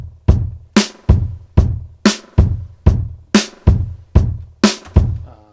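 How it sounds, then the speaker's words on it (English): A punchy drum loop from an electronic music production repeats in an even rhythm, each hit a sharp attack with a bright cymbal-like top and a short decaying tail, loud and alone. "So let's listen to those drums."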